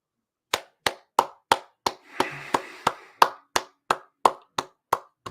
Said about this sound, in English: Give a round of applause to Jay Williams, ladies and gentlemen